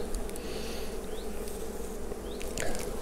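Honeybees during a full summer hive inspection, a dense continuous buzzing of many bees close by with faint clicks and knocks of a hive tool.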